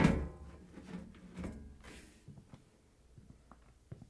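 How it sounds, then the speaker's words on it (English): The top panel of a Samsung front-load washer is slid back and lifted off, giving a scraping metal slide, then a few faint clunks and taps, close by and quiet, heard alone. "Slide the panel back and lift it off the washer."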